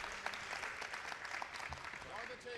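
Audience applause at a Hindi poetry gathering, a dense, even patter of many hands that holds steady for a few seconds at moderate distance.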